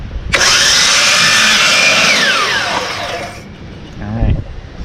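A power saw cuts crown molding during a kitchen rebuild, running loud and steady for about three seconds with a whine that shifts pitch as the blade works through the trim, then winding down.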